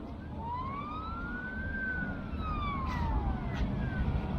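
A city emergency vehicle siren wails in a long rising and falling sweep, moderately distant, over steady street traffic rumble, with a second fainter siren layered in.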